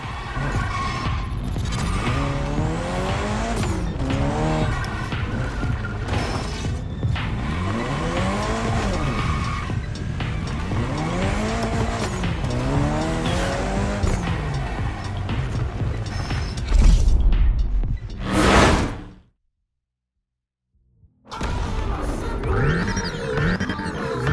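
In The Crew Motorfest, an Audi Hoonitron electric gymkhana car drifts, its motor whine rising and falling in repeated sweeps amid long tire squeals. A loud burst is followed by a brief silence, then the whine and squealing resume.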